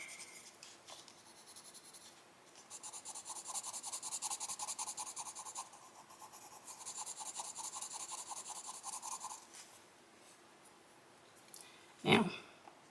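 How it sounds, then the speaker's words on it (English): Colored pencil burnishing white over paper on a coloring page, faint rhythmic rubbing strokes in long bursts, close and quiet. "I am kind of burnishing. Kind of smoothing the edges there."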